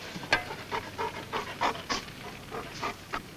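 A dog pants rapidly in short, even breaths, close and fairly quiet, with no one talking over it.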